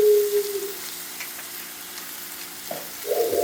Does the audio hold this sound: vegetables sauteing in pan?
yes